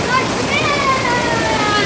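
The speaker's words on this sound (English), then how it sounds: "look at the sound of the rain" Heavy rain near a railway station pours in a dense, loud, continuous hiss and splatter, with a faint voice in the background.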